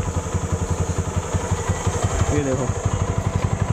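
A TVS Apache 200 4V motorcycle engine runs after being started, a steady rapid thumping idle close by and fairly loud, with someone speaking briefly over it.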